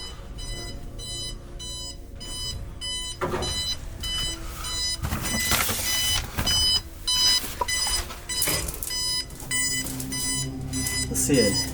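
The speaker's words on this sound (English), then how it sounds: "It's like an alarm." An alarm-clock-style alarm rings in a house, sounding as rapid, evenly repeating electronic beeps that run through the whole stretch while people talk and move nearby.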